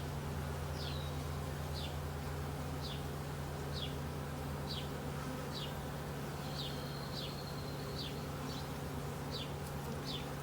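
Honeybees at a beehive during a hive merge give off a steady, dense, low drone that holds at one level throughout, with a faint repeated chirping sound rising above it at regular intervals.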